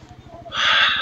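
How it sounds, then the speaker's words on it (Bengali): Bajaj Pulsar NS400 motorcycle engine idling after a cold start, a steady close rumble with a loud hiss-like surge rising halfway through. "কোল্ড স্টার্টও হয়ে গেছে বাইক। এবার বেরোবো, বার করছি বাইক।"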